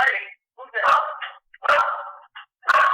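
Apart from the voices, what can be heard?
dog barking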